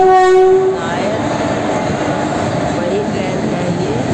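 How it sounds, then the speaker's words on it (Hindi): Dibrugarh Rajdhani Express at a railway station, a loud horn blast at the start followed by a steady rumble of the train with station noise, close by, with people talking. "हाँ जी यही है राजधानी एक्सप्रेस, यही है डिब्रूगढ़"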